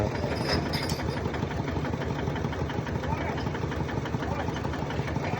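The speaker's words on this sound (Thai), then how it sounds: "นี่ก็จะเป็นรถไถ รถดีเต็นที่เขาไว้ขนมันสำปะหลัง" A diesel tractor (Thai-style "iron buffalo" farm tractor) used for hauling cassava in Cambodia idles with a steady, even mechanical chug at close range, with a voice talking over it throughout.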